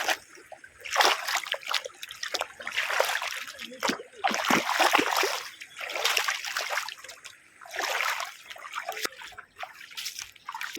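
Water splashing in a small forest stream on the way to Chirma Devi waterfall near Thane, surging bursts of close sloshing and trickling that rise and fall in waves, with no talk.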